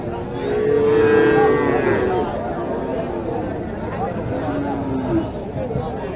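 Cattle low nearby at a livestock market in Naogaon, Bangladesh, where Sahiwal bulls and calves are sold: one long moo near the start and a shorter one later, with people talking and crowd chatter all around.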